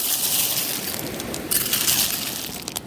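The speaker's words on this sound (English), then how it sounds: "let me give some live action of digging for a bit." Lakeshore stones and sea glass shifted and dug through by hand, giving a close, continuous gritty crunch with scattered glassy clinks and a busier rattle in the second half.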